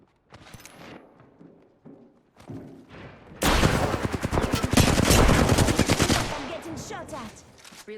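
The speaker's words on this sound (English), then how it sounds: "Getting shot at." Rapid automatic gunfire in a video game, a long dense rattling burst that swells loud mid-way and tapers off, preceded by scattered quieter shots and sounds.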